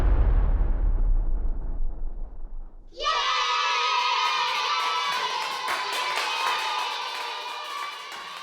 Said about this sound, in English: Bomb.